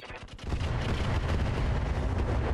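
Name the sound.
Hydra weapons firing in a video game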